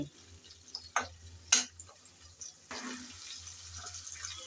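Potatoes frying in oil previously used to fry fish, a soft low sizzle with several sharp clatters and scrapes of stirring near the start, fairly quiet and without speech.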